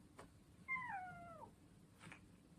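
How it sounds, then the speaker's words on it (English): A single short cat meow, rising then falling, heard faintly in a quiet room with a couple of soft clicks before and after. "We've got a cat."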